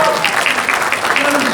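Crowd applause at a comic con Q&A panel, a dense burst of clapping filling the hall, with voices mixed in over it.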